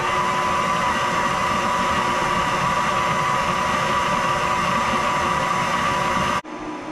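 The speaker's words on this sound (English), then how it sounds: "while our mixer is going with the butter and the sugar" An electric stand mixer creaming butter and sugar for a sorrel cake, giving a steady whirring motor hum with a constant pitch that runs unbroken, then cuts off abruptly near the end.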